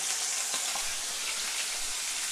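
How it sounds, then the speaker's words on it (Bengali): Pieces of rohu fish fry in hot oil, giving a soft, even sizzle with faint crackles, steady and moderately quiet throughout. "এবার মাছগুলো আমি ভেজে নেব।"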